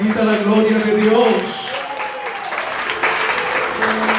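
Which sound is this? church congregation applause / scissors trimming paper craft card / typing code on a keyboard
church congregation applause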